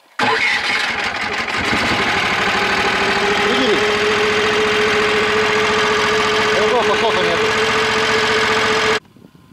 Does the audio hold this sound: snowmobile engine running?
yes